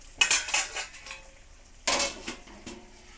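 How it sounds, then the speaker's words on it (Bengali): A spatula scrapes and clanks against a pan while bata fish curry is stirred, in two short bursts of metallic clatter close by, with quiet gaps between and no voices. "এটা এরকম করে নাড়িয়ে চাড়িয়ে এটা করে নিচ্ছি"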